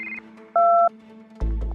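A phone call comes in on a mobile, heard as a single short two-tone electronic beep in the middle, clear over a quiet background, followed by a louder low thump and rustle near the end.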